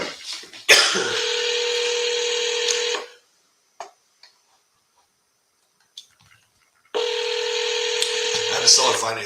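During a phone call to a seller, loud sustained telephone tones fill two stretches, from the first second to the third and again near the end, with near silence and a few faint clicks between them.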